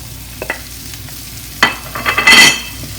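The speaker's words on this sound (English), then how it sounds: "keep on mixing until it becomes goldish color" Spices are stirred through frying eggplant in a pan with a spatula: a couple of light scrapes, then a longer run of louder, close scraping and sizzle before it eases off.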